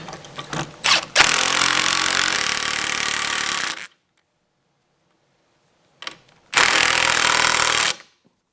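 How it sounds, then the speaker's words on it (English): An impact drill drives a leg bolt on a deck railing in two loud, sustained hammering bursts, each a few seconds long, separated by a short silent pause, with a few brief taps at the start. "Then I took my impact drill with my leg bolt"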